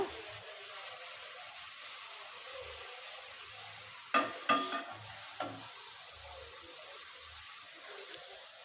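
Vegetables sautéing in a pan before beaten egg is poured for a breakfast dish, a soft steady sizzle with a few sharp clinks of a utensil against the pan midway, no talk.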